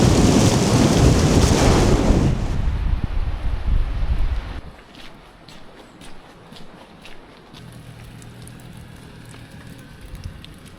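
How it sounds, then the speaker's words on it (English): Loud rushing downpour with gusting wind for the first few seconds beside a lake, then easing to a softer patter of rain and dripping. "The showers come in bursts, but when they do come, wow, they do come."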